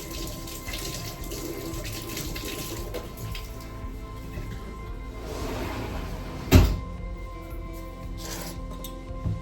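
A raw mango is washed under a running tap, with a steady splash of water into a sink and a sharp knock partway through.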